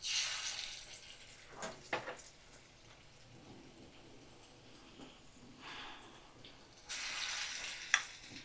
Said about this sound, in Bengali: আর এই দেখো আমি ছোট ছোট বড়ির মতন করে দিয়ে দিচ্ছি গরম তেলের মধ্যে।